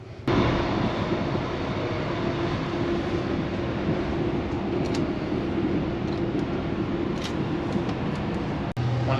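Steady rumble of a Caledonian Sleeper train rolling along, heard from inside a first class sleeper car, a broad continuous roar with faint rattles throughout and a brief dip near the end.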